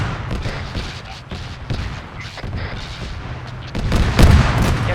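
Armored vehicle cannon fire in a military video game battle against an APC, heavy booming shots and blasts repeating across the clip, loudest near the end, with muffled radio chatter mixed underneath.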